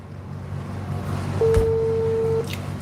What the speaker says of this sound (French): Et puis, ça appelle vidéo. On m'appelle en vidéo.